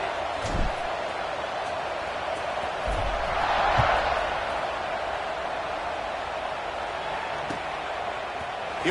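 Football stadium crowd at kickoff, a broad sustained roar that swells in the middle, distant and steady, with commentators talking over it.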